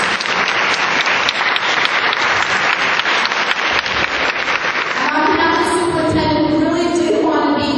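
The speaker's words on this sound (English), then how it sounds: "a big round of applause" Loud, sustained audience applause at a school debate event, a full crowd clapping steadily, with music rising underneath toward the end.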